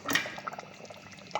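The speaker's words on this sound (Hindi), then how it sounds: "इसमें मैं डालूँगा आटा और पानी ऐड करके अच्छी तरह से" Flour and water going into chicken kunna gravy, likely in a clay pot, giving soft wet dripping and trickling sounds with small splashes, faint and close.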